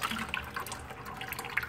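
Hydraulic oil draining from the filter housing of an Oliver 1755 tractor into a bucket, a quiet steady liquid trickle with small splashy drips, close and faint, no talk.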